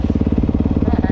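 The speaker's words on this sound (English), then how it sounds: "That YZ250 baby over there, Chemo." A Yamaha YZ250 dirt bike engine on a motocross track gives a loud, close, rapid pulsing two-stroke drone that stays steady through the short burst.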